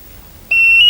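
A game show contestant's buzzer sounds halfway through, a sharp steady electronic tone that starts abruptly after near silence and holds loud to the end.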